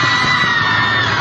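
Fans packed into a television studio at the Sichuan TV festival cheer and yell loudly, a dense, sustained crowd roar with no pauses.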